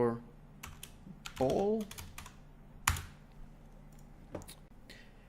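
Keys clatter on a computer keyboard as a blueprint name is typed, a quick irregular run of clicks with a few louder taps, close up, while someone speaks briefly over it.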